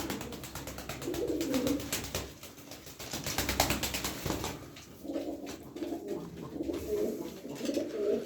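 Pigeons coo in repeated low, rolling phrases, several birds layered together at close range over a busy background of flutters and rustling.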